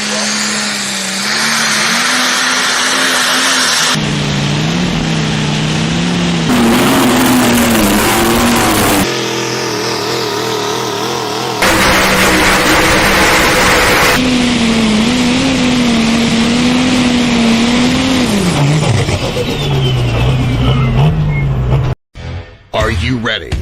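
John Deere pulling tractor roaring down the track at a tractor pull, a loud sustained engine drone whose pitch climbs and shifts, with an announcer talking over it throughout.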